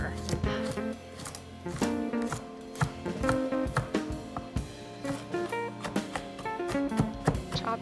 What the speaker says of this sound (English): I just use my knife to chop and cut, press, do whatever I can to make the dish